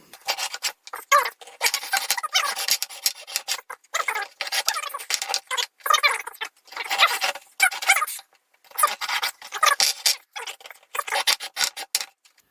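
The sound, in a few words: sawing through soft aluminum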